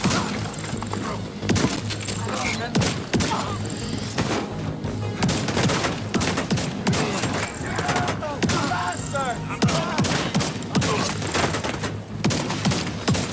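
Rapid turret gunfire in The Division 2, sustained bursts of automatic shots with crashing impacts and breaking sounds, loud and continuous throughout, with brief voice lines mixed in.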